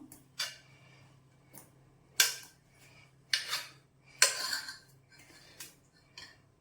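Cooked rice scraped and stirred into curd in a pot, with several separate metallic clinks and scrapes of a spoon against the vessel, close and fairly quiet.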